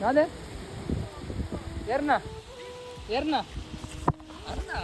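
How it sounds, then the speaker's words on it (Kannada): Heavy monsoon rain falls during a motorbike ride around Sakleshpura, a steady broadband wash that continues under voices talking throughout. "ಜೋರು ಮಳೆ ಬರ್ತಿದೆ ನೋಡಿ."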